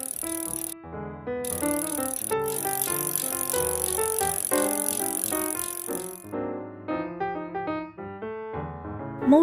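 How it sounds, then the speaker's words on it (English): A bicycle sound made of bright, repeated ringing tones that come in quick, overlapping bursts over about nine seconds, fairly quiet and with no voices. "bicycle"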